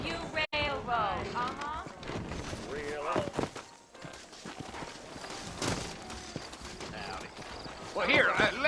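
Rhythmic hoofbeats clop along beneath people talking in the video game Red Dead Redemption, a horse trotting at a steady pace nearby.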